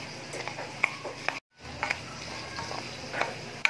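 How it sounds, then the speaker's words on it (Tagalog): Java rice being stirred in a pan, colored with annatto and turmeric, gives soft scraping and sizzling with intermittent spoon clicks, broken by a brief silent gap midway. "Haluin natin lahat."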